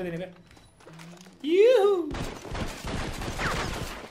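A close-range shotgun blast in Red Dead Redemption Online, a western video game, lands as one loud, sharp report amid a burst of game noise, with someone talking before and over it.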